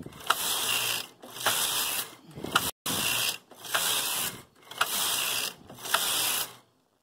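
A Brother KH892 knitting machine carriage, set to tuck stitch, runs back and forth across the needle bed in six steady passes, each a loud mechanical clatter and whirr of ratcheting parts with brief pauses between strokes. No one speaks.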